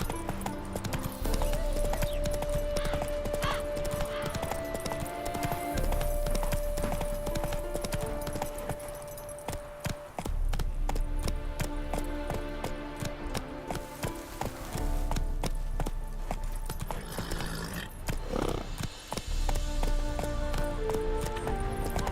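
Roach the horse gallops in The Witcher 3, with steady clip-clop hoofbeats running under a continuous musical score for the whole stretch.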